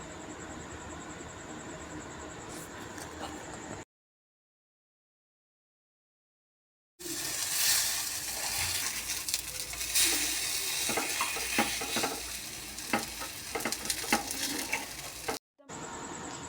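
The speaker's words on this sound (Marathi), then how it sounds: "तेल गरम झालेलं आहे. यामध्ये आपण हे मिश्रण" Appe batter sizzling in hot oil in an appe pan, a dense, bright crackling hiss that continues steadily after a brief gap, close and moderately loud, with scattered pops and no voices.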